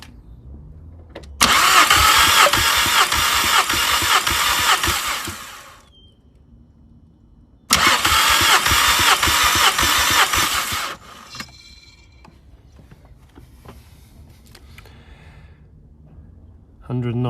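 Mk5 VW Golf GTI engine cranking with a misfire under a compression test: two loud, steady cranking bursts of several seconds each with a gap between, a faint hum and some quiet talk after.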